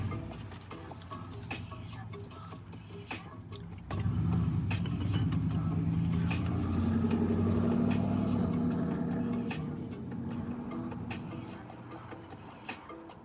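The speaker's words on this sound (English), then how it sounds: "Sorry for that car. This is just Walmart parking lot." A car rumbles past nearby in a Walmart parking lot, its low engine noise swelling and then fading, with faint ticking and mechanical clicks around it.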